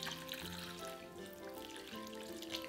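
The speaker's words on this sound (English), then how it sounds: "Pour in the warm water" Warm water poured into a bowl of Sichuan peppercorns, scallions and ginger, a soft continuous splashing trickle over faint background hum.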